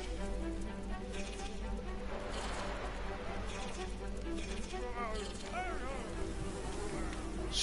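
Steady insect-like buzzing of a bee flying in the Bee Simulator video game, continuous and fairly loud throughout, with game sounds and faint voices mixed in.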